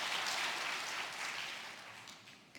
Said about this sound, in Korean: 우리 찬양대 우리 격려 박수 한번 하겠습니다